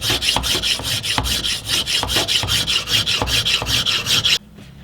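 Scissors blade being sharpened on a sharpening stone, rapid rhythmic rasping strokes, about three per second, close and loud, stopping abruptly near the end.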